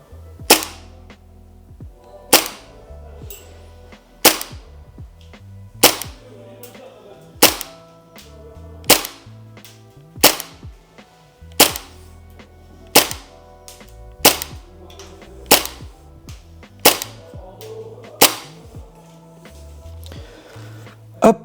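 A Tokyo Marui MP7A1 gas blowback airsoft gun fires single shots, sharp loud cracks with mechanical clatter spaced about a second and a half apart, over a quiet hum at roughly 15 degrees.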